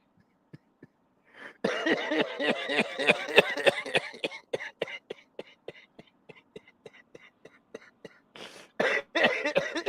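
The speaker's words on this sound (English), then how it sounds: "There's the cough." Repeated coughing fit, a burst of harsh coughs and throat clearing that tapers into a run of short hacks and then flares up again, close and fairly loud, with no talking.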